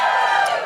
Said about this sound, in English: Give us a cheer if you're more feminist than guilty.